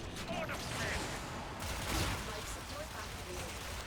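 Akstiletto pistols fire in Warframe, a quick stream of fairly soft, rhythmic shots heard under someone talking throughout.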